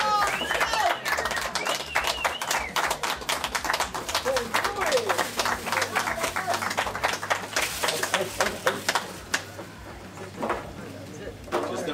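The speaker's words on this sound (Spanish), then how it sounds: "Vamos a aplaudir todos para hacer una toma de local." A group claps together during a team eating challenge, rapid sharp hand claps in a rhythmic flurry mixed with lively shouting and talk throughout.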